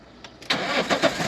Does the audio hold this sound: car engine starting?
yes